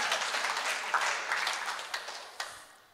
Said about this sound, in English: Can we give Max a clap?